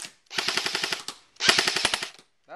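A Cyma Thompson 1928 airsoft gun on a 9.6-volt battery fires two short full-auto bursts, each a loud, rapid mechanical rattle about a second long, separated by a brief pause.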